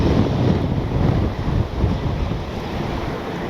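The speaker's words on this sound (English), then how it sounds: "Dang, that wind." Strong wind in the Black Hills of South Dakota buffets the microphone in a steady low roar, gusting slightly with no voices present.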